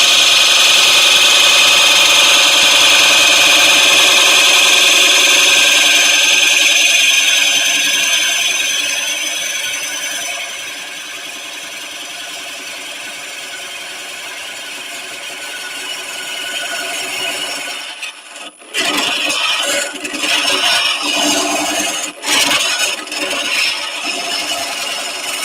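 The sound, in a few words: wood turning on a lathe with a carbide tool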